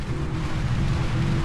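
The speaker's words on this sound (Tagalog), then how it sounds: "umulan na naman. Pambihirang ulan yan." Heavy rain falls on a roof of a house under construction, a steady dense hiss with a low rumbling undertone, continuous and fairly loud with no voices.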